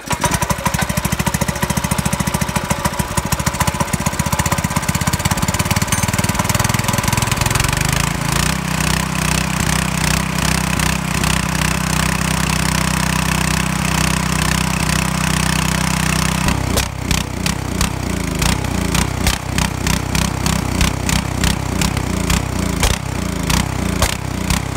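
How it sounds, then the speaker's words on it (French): A Honda GX200-type 196cc single-cylinder small engine, governor still fitted, runs loud and close with a rapid, rattling exhaust beat, its pitch climbing and steadying after startup and shifting again partway through. "je vais faire un premier test du moteur encore bridé"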